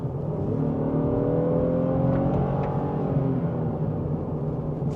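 Under a steady road roar, the V6 of a 2026 Honda Passport TrailSport builds as it accelerates from 40 mph, its engine note rising and shifting in pitch inside the cabin.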